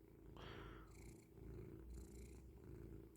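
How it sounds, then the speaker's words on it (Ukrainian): A cat purrs close up, a low rhythmic rumble rising and falling with its breaths, quiet and steady. "Чуєте, як мурчить?"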